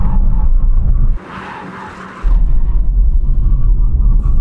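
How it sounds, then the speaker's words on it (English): A BMW 3 Series Touring brakes hard from 100 mph with a loud, close rumble of road and engine noise and a short hissing skid of the tires in the middle, then the rumble returns. "We're going to do a brake test from 100 miles an hour."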